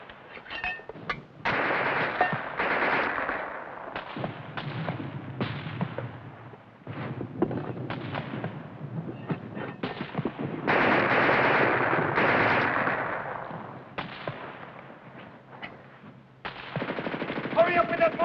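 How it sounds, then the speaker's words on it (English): Mortar and rapid gunfire in a 1953 war-film battle scene: loud bursts of machine-gun fire and blasts come in waves, with shouted dialogue breaking through between the volleys. "Hurry up with that mortar."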